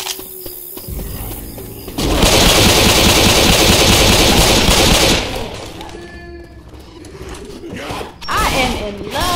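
Rapid automatic gunfire from a gun in Left 4 Dead 2 blasts in a dense, loud burst lasting a few seconds, framed by quieter game noise and a voice speaking afterward.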